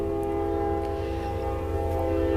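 A train horn sounds in a long, sustained blast with steady harmonic tones over a low rumble, moderately loud and alone.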